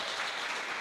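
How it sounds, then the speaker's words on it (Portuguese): A church congregation claps together in a dense, even burst of applause that fills the room, loud and continuous without any voices. "faça o possível de aplaudir a Deus nessa noite"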